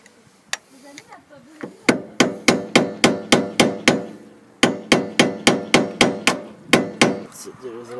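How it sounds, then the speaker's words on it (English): A hammer strikes a flat screwdriver to lift a lock during a rear wheel bearing replacement on a Honda Civic, a few taps followed by a fast, steady run of loud metallic blows, a short pause, then another rapid burst. "just put your flat screwdriver, hit it by hammer, it's gonna lift it up a bit"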